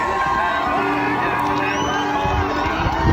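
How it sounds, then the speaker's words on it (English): A large crowd at the north Kerry senior football final replay between Knocknagoshel and Listowel Emmets cheers and shouts continuously, whoops and yells rising over a dense roar. "Huge crowd at this game"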